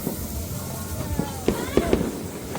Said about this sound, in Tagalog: Uy, ang laki ng fireworks na yun